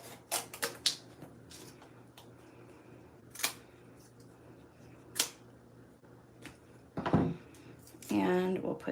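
Paper being cut for a handmade card during a Stampin' Up! class: a few sharp, separate snips and crisp paper handling, quiet and close, with a louder rustle near the end.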